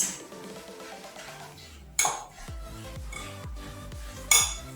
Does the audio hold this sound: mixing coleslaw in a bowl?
yes